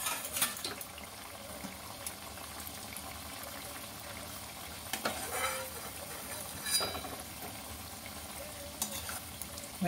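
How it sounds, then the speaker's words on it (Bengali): Fried bread sweets slipped one by one into a pan of sugar syrup, a steady soft bubbling and simmering hiss with a few faint clinks and splashes scattered across it, close and low. "এবার এগুলো একে একে আমি রসে দিয়ে দিচ্ছি।"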